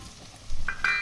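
Potato pieces fry in hot oil, a soft sizzle rising midway with faint stirring and brief bright crackles, quiet and close with no talking.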